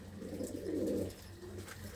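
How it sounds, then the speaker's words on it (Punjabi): Pigeons in open mesh-walled lofts and crates on a Punjabi pigeon keeper's farm give a soft, low cooing swell over quiet background murmur. "ਵਧੀਆ ਕਬੂਤਰ ਨੇ ਬਾਈ ਹੁਣਾਂ ਦੇ"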